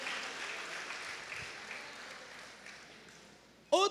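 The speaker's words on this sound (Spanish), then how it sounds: "Dale ese aplauso fuerte al Señor por su sangre." A church congregation claps and cheers in a sustained, dense wash of applause that slowly fades, with a brief burst of voice at the very end.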